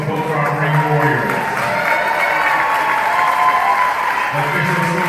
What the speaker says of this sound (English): I'm going to reserve a round of applause for both our ring warriors.